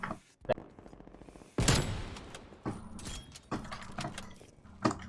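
Pelington rifle fire in a shooter video game, several sharp, heavy single shots spaced apart with mechanical handling clicks between them, mixed with a speaking voice.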